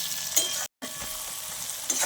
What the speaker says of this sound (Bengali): মশলাগুলি প্রায় ভাজা ভাজা হয়ে গেছে।